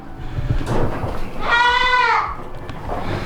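A goat lets out one loud, wavering bleat close by on a farm, lasting about a second amid faint background noise.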